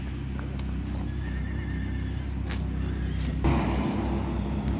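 A Karabair foal walked past outdoors, its hooves clip-clopping steadily at close range over a constant low rumble, with a louder burst of noise near the end.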